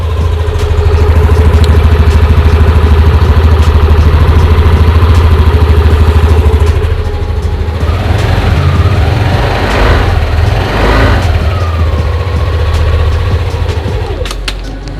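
A Yamaha Aerox 155 scooter engine idles steadily up close, a continuous low mechanical hum with a little clatter, holding level for about fifteen seconds with slight shifts in tone toward the end.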